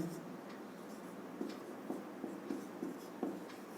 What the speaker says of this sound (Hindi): ऊपर लिख देता हूं मैं